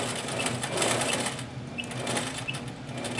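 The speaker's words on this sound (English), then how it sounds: "instead of back stitching, I'm just going to do some stippling" A sewing machine stitches appliqué in a quilting setting, its fast steady needle chatter running continuously and close, with faint periodic clicks on top.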